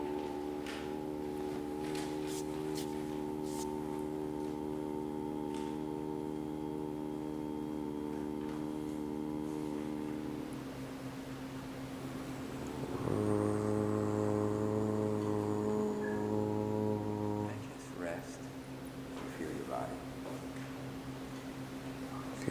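A human voice imitates a harbour foghorn with long, low, sustained hooting tones, one drawn-out note followed by a deeper, briefer blast, fairly faint.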